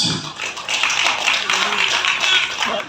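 Applause from the audience greets the cast of the film Kejar Mimpi Gaspol at a press conference, a dense steady patter of many hands clapping close by for about three seconds.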